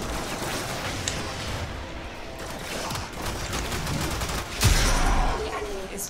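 Rapid bursts of gunfire in the video game Warframe crackle continuously over a dense mechanical din, with a sharper, louder volley near the end.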